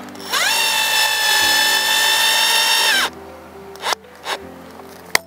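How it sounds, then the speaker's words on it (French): A power drill fitted with a hook whirs steadily for about three seconds, driving a screw eye into a wall, its pitch rising then holding, followed by a few short clicks and taps. "on peut prendre, petite astuce, une perceuse avec un crochet qui va nous permettre de visser sans effort"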